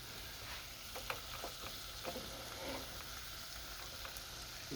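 Onions bubble and fry in a pan for tacos, a faint, steady crackling sizzle with scattered soft pops and light ticks, fairly distant and alone.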